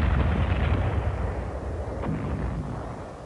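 Heavy WWII battle fire on Attu rumbles in a continuous low roar of distant booms and blasts, loud and dense, fading slightly toward the end with no voices.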